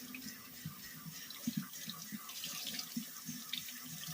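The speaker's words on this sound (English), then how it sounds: "I like to run some water through," Tap water runs into a sink while tie-dyed fabric is rinsed and squeezed under it, a steady close stream with irregular splashes and drips.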